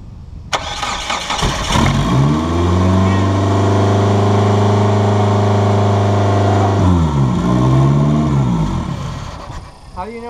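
A car engine on a project race car with a turbo fires up and revs loudly, holding a strong steady drone for several seconds before it drops back, close and dominant.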